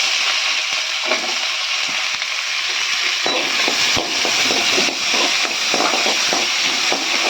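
Onions frying in a pan for tomato onion chutney make a steady, close, dense sizzle and crackle throughout, with light stirring scrapes and no talk.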